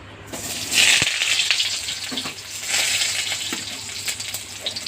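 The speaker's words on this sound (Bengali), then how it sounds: "এবার কড়াইতে আমি আলুগুলো দিয়ে দেবো।" Potatoes drop into a hot wok and sizzle, a bright hiss that flares up suddenly and then settles into a steady frying crackle.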